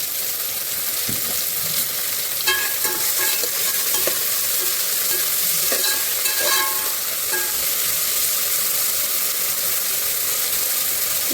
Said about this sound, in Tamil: ஆனியன் சீக்கிரமாக ஃப்ரை ஆகுறதுக்கு கொஞ்சம் சால்ட் ஆட் பண்ணிக்கலாம்